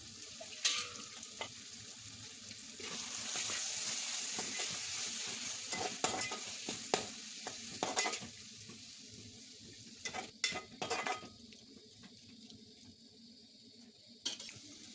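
Marinated prawns with ginger-garlic paste frying in a pan for prawn biryani, a fairly quiet sizzle with irregular stirring knocks and scrapes, and a few brief louder clatters toward the end.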